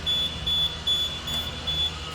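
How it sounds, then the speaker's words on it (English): Electronic alarm panel beeps repeating steadily during a pressurization fault, five short high-pitched tones evenly spaced over low background hum, fairly close. "get rid of this beeping."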